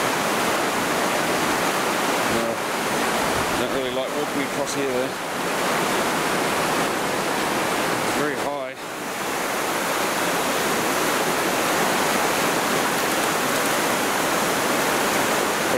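Rushing water flows through a narrow gorge beneath a bridge on a mountain hiking circuit, a steady loud broadband roar throughout, with a person speaking briefly over it partway through.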